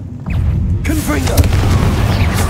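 Confringo explosive spell cast in the Hogwarts Legacy video game: a sudden boom lands about a second in and leaves a dense, sustained rumbling blast with crackling debris, loud and close, after a short quieter lead-in.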